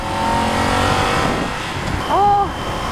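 A Honda Hawk 11 motorcycle engine spins above 4000 rpm at highway speed, a loud steady drone with a rising whine laid over the rumble. Wind rush fills the background, and a short tonal whistle sweeps in near the end.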